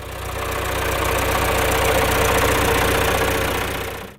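A John Deere 2440 utility tractor's diesel engine runs steadily at a loud, even idle with a rough knocking rhythm, close by and alone, then cuts off abruptly at the end.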